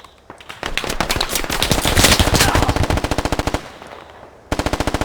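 Rapid automatic gunfire in the tactical shooter Squad, a friendly-fire incident: long dense bursts of close, loud shots, a brief lull, then another sharp rapid burst.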